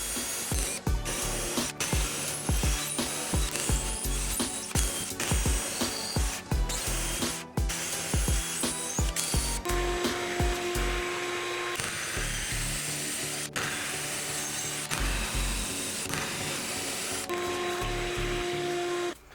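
Drill bits of increasing size bore holes in wood for a pinball machine's ball dispenser, giving close, loud bursts of chattering, ratcheting grinding in quick irregular runs, broken by brief pauses and a few higher whining stretches.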